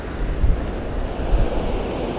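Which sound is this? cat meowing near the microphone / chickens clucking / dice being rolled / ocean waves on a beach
ocean waves on a beach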